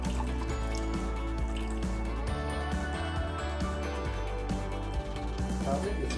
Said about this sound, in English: Wash your lentils at least 2 to 3 times.